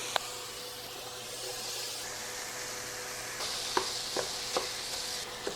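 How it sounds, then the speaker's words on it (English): Ground beef and diced onion brown in a pan with a soft, steady sizzle and hiss, punctuated by a few light scraping stirs near the end. "finish browning up the ground beef and softening down that onion"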